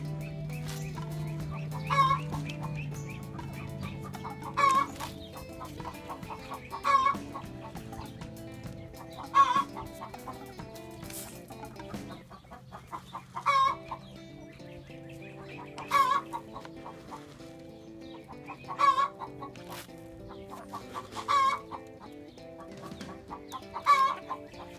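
Hens on a farm clucking in repeated short bursts roughly every two to three seconds, fairly close, over a low steady background hum.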